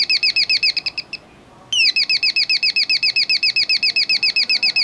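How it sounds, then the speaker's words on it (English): An electronic bird doorbell plays a rapid, loud, evenly pulsed chirping melody of repeated synthetic tweets, pauses briefly, then resumes the same steady chirp pattern. "Compared with the General Electronic Bird doorbell."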